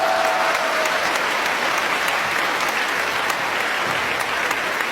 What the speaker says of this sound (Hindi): ये आप अपने लिए तालियां बजाइए